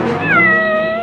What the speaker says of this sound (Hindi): बिल्ली की आवाज कहाँ से आ रही है?